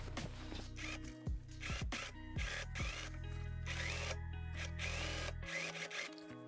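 A sewing machine stitches the side seam of a peplum winter jacket, closing it up to the sleeve hem, with loud mechanical whirring and rapid needle rattling that starts and stops in short bursts before running steadily, with no talking.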